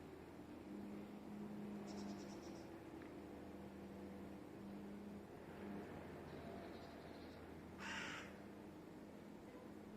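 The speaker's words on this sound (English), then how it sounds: "crows and ravens very often like this place" Crows caw from the trees of a holy grove in Killiney, Ireland, with short harsh calls repeating at a distance over a quiet outdoor ambience and a faint low hum.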